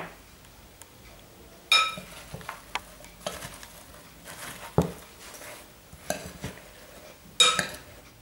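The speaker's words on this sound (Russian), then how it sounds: "и хорошо смешаю" A spoon scrapes and clinks against a bowl while thinly sliced apples are stirred with cinnamon, with a few sharper knocks scattered among quieter rustling.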